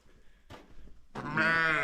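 A sheep on a small farm gives one loud, close, wavering bleat after a couple of softer rustling sounds.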